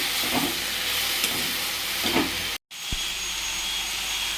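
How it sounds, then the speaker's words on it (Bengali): Punka greens with fried potato and salt sizzle in a hot pan, a loud steady hiss with soft scraping stirs, a sudden brief dropout, then continued frying. "কেটে রাখা পুনকা শাকগুলো দিয়ে দিয়েছি তার সাথে নুন দিয়ে দিয়েছি একটু ভালো করে নেড়ে নিচ্ছি"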